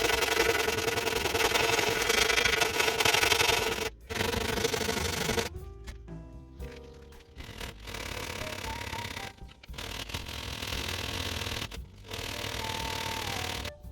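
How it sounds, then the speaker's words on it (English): Rust repair on the boot of a Mitsubishi Galant being sanded down, a steady abrasive rasping that runs loud and close in long passes, broken by short pauses and quieter rubbing between strokes. "Let's start sanding."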